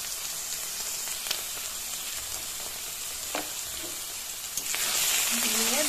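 Cauliflower being stirred and tossed with salt and turmeric in a pan, with a soft continuous sizzle and scraping, and a louder rush of frying near the end.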